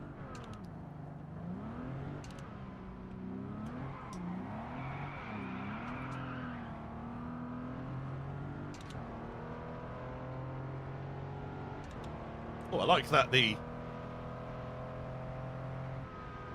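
A Bentley Continental engine driven in Test Drive Unlimited Solar Crown hums and rises through gear changes, a steady whirring tone, with a brief exclamation from a person in the middle.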